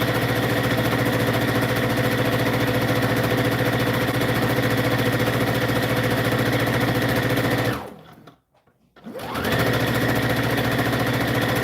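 A sewing machine stitches satin ribbon trim onto anklets in a loud, continuous whir, briefly stopping near the end before starting up again and running steadily.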